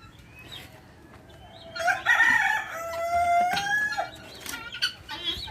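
A rooster crows loudly in a long drawn-out call amid a farmyard of Chinese-breed chickens, with scattered clucks and chicken calls before and after, fairly close.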